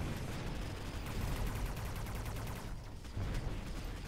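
Dense, continuous gunfire and explosions from the strategy video game Mechabellum, a busy battle roar with overlapping rapid shots, moderately loud and without speech.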